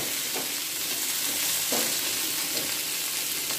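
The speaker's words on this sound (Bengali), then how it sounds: "হালকা লালচে করে একটু ভেজে নিলে" Ingredients for dalia fry in a pan until lightly reddened, giving a loud, steady sizzle with a couple of soft stirring scrapes and no talking.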